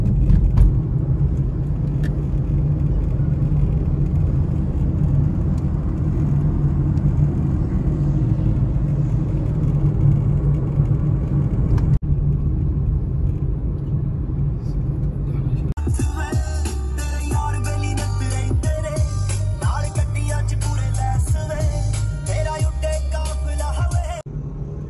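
A new car pulled out of a garage on its way to a workshop for tuning, its steady engine rumble and road noise continuous throughout, with a brighter, busier layer of sound joining in for the final stretch.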